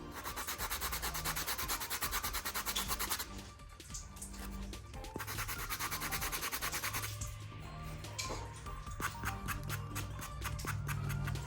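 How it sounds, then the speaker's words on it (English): Steady, rapid rubbing of a sanding block over a handmade glitter pen, continuous and close, with a brief lighter pause midway before the scrubbing resumes. "Get our little sanding block."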